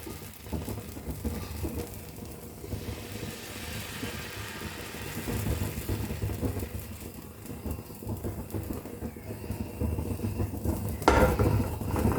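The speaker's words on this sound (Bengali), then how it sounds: "আমি আপনাদের দেখানোর জন্য আর একটা ভাজছি।" Patisapta batter sizzles steadily in a hot pan, a continuous close crackling hiss with a brief clatter near the end.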